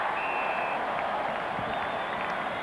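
A rugby crowd at Concord Oval in 1988, many of them New Zealand fans, applauds and cheers at a Bledisloe Cup test, a steady, broad wash of clapping and crowd noise with a faint whistle above it.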